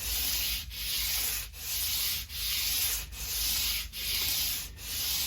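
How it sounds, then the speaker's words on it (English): A sanding block is drawn back and forth over the surface of a PRS SE electric guitar to level it flat, six or seven even, rhythmic rasping strokes with short pauses between them, close and fairly loud. "I'm just going to check that it's flat first. And to do that, I'll just gently sand it along here."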